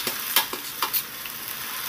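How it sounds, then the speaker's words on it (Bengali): Fried pointed gourd and potatoes are stirred through a spice masala in hot oil, giving a close, steady sizzle broken by quick scraping strokes of the spatula, with no talking. "ভাজা আলুগুলোকে দিয়ে মশলার সাথে ভালো করে নেড়ে চেড়ে আমি কষিয়ে নেব 2 মিনিট"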